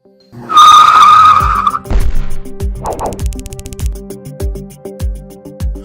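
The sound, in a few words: car braking hard with tires skidding in braking test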